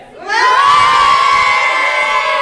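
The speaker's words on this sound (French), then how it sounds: "faites du bruit, s'il vous plaît" A crowd at a singing contest, many of them children, bursts into loud cheering and high-pitched shouting that swells quickly and stays sustained and close.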